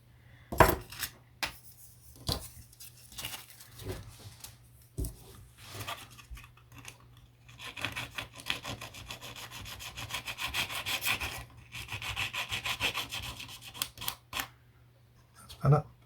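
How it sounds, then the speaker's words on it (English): A craft knife scrapes and slices thin lithoplate on a cutting surface while a model Blackburn Monoplane is being built. There are scattered clicks and taps, then a longer stretch of rasping strokes, all heard up close. "I'm going to cut it with a knife if I can"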